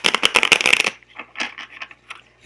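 A deck of fortune cards with a dragon design on the back being shuffled, a quick run of crisp riffling flutters for about a second, followed by a few softer, scattered card taps and slides.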